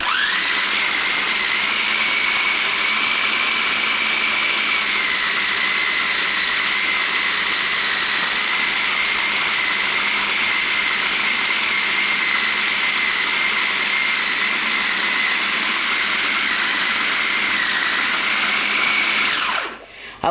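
Black & Decker food processor chopping bacon and pork fat, a loud, steady high-pitched motor whine that runs unbroken for about twenty seconds before cutting off abruptly at the end.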